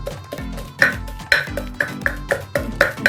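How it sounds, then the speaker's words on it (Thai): Garlic pounded dry in a mortar for Thai chili paste with mackerel, about seven sharp, evenly spaced thuds, each with a bright ringing knock, close and loud with no talking. "ก็นี่เลยโขลกนะคะโขลก ตีโขลกกระเทียม"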